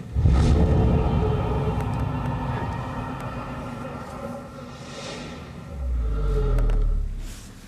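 A spell sound effect from the Age of Conan video game: a dense, rumbling magical wash with airy swooshes and shimmering layers, swelling again with a deep low boom near the end.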